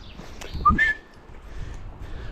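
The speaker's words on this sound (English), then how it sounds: "she never heard the whistle" A short dog whistle sounds twice to call dogs, a quick chirp then a longer rising tone, over faint outdoor background noise.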